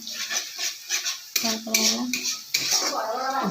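Metal spoon scraping and clanking against a pan while masala for a village-style fish curry is stirred, a rapid run of close scrapes and knocks with brief pauses.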